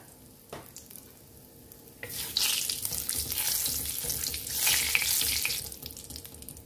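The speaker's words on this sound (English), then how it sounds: "temper it with a bay leaf and half a teaspoon of jeera, cumin seeds, a large pinch of Hing or Asafoetida" Bay leaf, cumin seeds and asafoetida go into hot mustard oil for tempering. A quiet crackle rises into a loud, bright burst of sizzling that spits and holds for several seconds, close to the mic.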